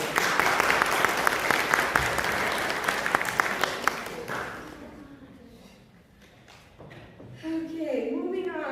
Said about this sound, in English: Can you give them a big round of applause, please?